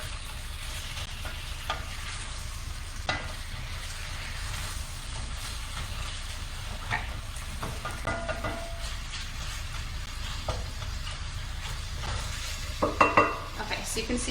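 Zucchini and tomatoes sizzle softly in a pan, melting into a sauce under a steady frying hiss with occasional stirring scrapes and light clinks, no talking.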